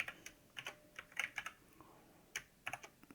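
Fingers type code on a computer keyboard in quick clustered bursts of light clicking keystrokes with short pauses between, faint and close, with no speech.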